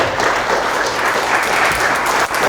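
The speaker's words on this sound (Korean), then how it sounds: "훌륭한 강연해 주신 김누리 교수님께 다시 감사의 박수 부탁드리겠습니다" An audience applauding after a lecture by Professor Kim Nu-ri in Geochang, dense steady clapping throughout at close range, with no voices on top.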